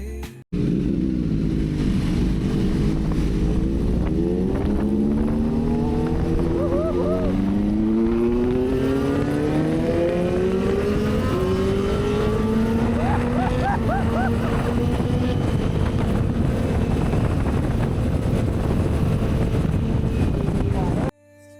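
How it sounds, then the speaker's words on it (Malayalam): Superbikes with inline-four engines roar past on an open road during a weekend ride, their rising, layered engine whine climbing in pitch as they accelerate and loud throughout, with wind buffeting the microphone. "ഇൻലൈൻ 4ന്റെ ഒക്കെ സൗണ്ട് മുഴങ്ങി"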